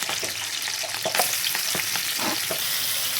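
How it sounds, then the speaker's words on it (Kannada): Chopped onion fries in hot oil with mustard seeds and curry leaves for chitranna, giving a dense, continuous crackling sizzle with soft stirring scrapes, close and alone. "ಎಣ್ಣೆ ಕಾದಿಂದ ಒಂದೆರಡು ಸಾಸಿವೆ ಒಗಿಬೇಕ್ರಿ. ಕರಿಬೇವು ಹಾಕಬೇಕು. ಆಮೇಲೆ ಉಳ್ಳಾಗಡ್ಡಿ ಹಾಕಬೇಕು."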